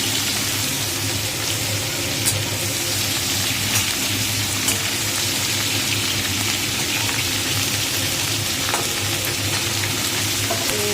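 Onions frying in oil alongside fish for a jackfruit and prawn curry, a loud continuous dense sizzle like heavy rain, steady throughout with a few faint taps and no talk.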